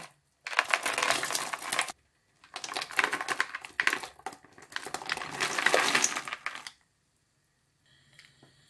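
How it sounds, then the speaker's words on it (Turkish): Dried figs pour into syrup in a pot for jam, making three drawn-out bursts of clattering, rattling splashes with brief gaps between them, close and fairly quiet, with no talking. "İncirleri yavaşça dökelim."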